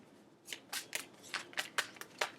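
Tarot cards being shuffled by hand in a series of crisp, papery riffling bursts, about eight quick flutters spread over two seconds, close and clear against a quiet room.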